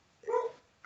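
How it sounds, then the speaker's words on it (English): A single short dog bark or yelp at home, close and moderately loud, followed by a faint click. "my dog's freaking out"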